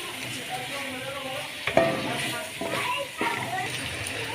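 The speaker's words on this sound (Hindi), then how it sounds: "अच्छे तरीके से मैंने बुनाई कर ली है मसालों की भी, चिकन की जो गर्दनें उनकी।" Chicken necks frying with ground red chili, turmeric and coriander in a pan, sizzling with a few sharp utensil knocks and scrapes as the mixture is stirred, fairly close.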